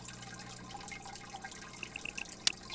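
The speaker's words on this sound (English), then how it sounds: "Let's do a quick little water change, see if that helps anything." Water trickles and drips faintly during an aquarium tank water change in Biotope Aquarium Simulator, a low steady wash with a few small droplet pings and one brief sharp splash near the end.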